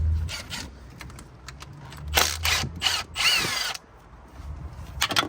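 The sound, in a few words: power tool removing a bolt on an F80 M3 engine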